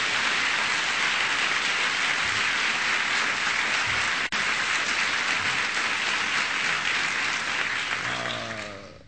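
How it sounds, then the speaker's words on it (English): A large audience in a hall at a presidential event at NIH gives a big round of applause for Kathleen Sebelius. The clapping is loud, dense and sustained for about nine seconds, then fades away at the end. "So please give Kathleen Sebelius a big round of applause."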